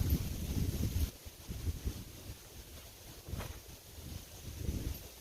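Strong wind gusting across an outdoor disc golf course in Pennsylvania, roaring and buffeting the microphone in uneven surges, loudest at the start and building again toward the end, with no voices.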